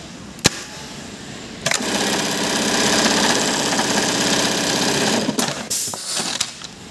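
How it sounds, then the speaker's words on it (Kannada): A Brother RH-9820 buttonhole sewing machine runs at a steady constant speed, a loud rapid mechanical chatter lasting several seconds between sharp clicks at start and finish, with no talking. "ಸ್ಟಾರ್ಟಿಂಗಿಂದ ಎಂಡಿವರೆಗೂ ಅದೇ ಸ್ಪೀಡ್ ಓಡುತ್ತೆ ಮಿಷಿನು"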